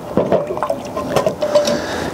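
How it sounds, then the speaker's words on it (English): Peppery sausage gravy seasoned with Worcestershire bubbles in a cast-iron Dutch oven set over campfire coals, giving a steady close burble with soft popping bursts and no talk. "we have just now gotten a good simmer on the gravy"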